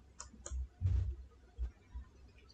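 A handful of separate mouse clicks on a Windows 11 PC, spaced irregularly with a couple of soft low thumps between them, close and fairly crisp with no talking.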